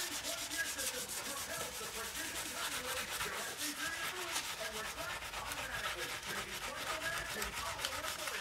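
An SOS steel-wool pad is pressed hard across a stained grill pan, giving close, continuous rasping scrub strokes in a steady rhythm with no talking.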